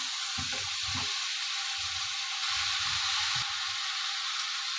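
Celery sprinkled with lemon juice sizzles steadily as it fries in olive oil with carrots in a pan, a loud continuous hiss with a few soft stirring clunks and no talking.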